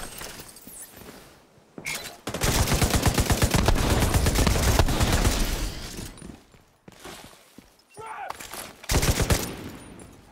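Turret gunfire in the shooter game The Division 2, heard as a loud, sustained rapid burst of automatic shots lasting several seconds, followed by scattered shorter bursts and impacts, with a voice briefly audible in the mix.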